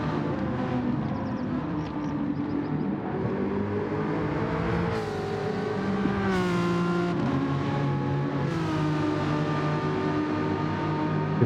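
Several racing cars in a sim racing video game drone and rev together in a continuous loud engine roar, with pitch rising and falling through gear changes and corners.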